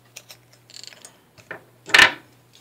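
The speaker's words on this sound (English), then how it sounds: "I'll unscrew this too, because both these pieces unscrew if I need them." Small plastic and metal parts of a homemade sonic screwdriver prop unscrewed by hand, giving a few soft ratcheting clicks and scrapes up close, then one louder rasping twist.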